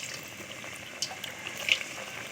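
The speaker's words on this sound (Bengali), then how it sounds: "আর এটা কিন্তু ডুবো তেলে ভাজতে হবে" Thekua dough pieces deep-fried in plenty of hot oil give off a faint, steady sizzling hiss, with a few brighter crackles and pops partway through.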